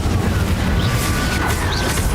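A Confringo spell blasts in Hogwarts Legacy, a dense, rumbling explosion that fills the clip with a steady low roar and no talking over it.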